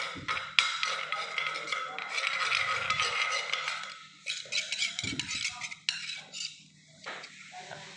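Metal utensil scraping and clinking against a pot while scooping soaked rice, with repeated rough scrapes and light rattles, close and fairly loud, pausing briefly between scoops.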